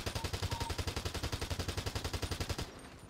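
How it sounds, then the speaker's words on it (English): Rapid automatic gunfire in a police SWAT roleplay video game, a steady stream of about two dozen close, loud shots that cuts off abruptly near the end. "Rambo's getting shot at right now."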